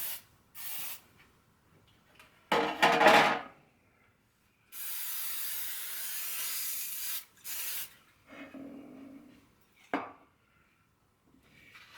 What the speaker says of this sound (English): So I'm going to spray it with no stick spray.